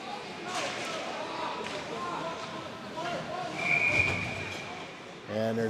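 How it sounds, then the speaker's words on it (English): A referee's whistle gives one sharp, clear blast over the murmur of a crowd in an ice rink during a youth hockey game, followed by a voice speaking nearby. "And there's another whistle."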